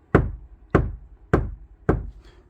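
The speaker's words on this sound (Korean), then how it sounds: "딱딱한 부틸 매트를 한 겹을 붙이고 전체로 두드려 보십시오." Four dull, firm knocks on a car panel covered with one layer of hard butyl mat, evenly spaced about half a second apart, each with a short, deadened decay.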